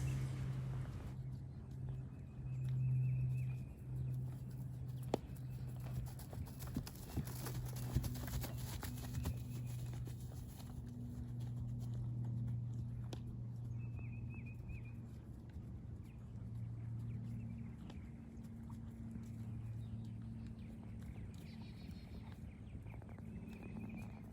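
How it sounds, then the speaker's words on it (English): Horse walking and then trotting to the left during a basic suppling exercise, with soft hoof footfalls under a steady hum of background noise and a few faint chirps, no talking. "So this is the walk and the trot to the left."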